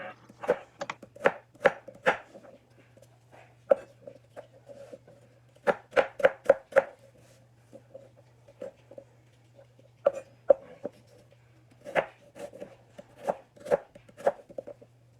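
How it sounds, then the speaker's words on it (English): A knife chops apples into cubes on a cutting board in quick bursts of crisp knocks separated by short pauses, close and clear over a faint steady hum, with no talking. "You're done cutting the apples"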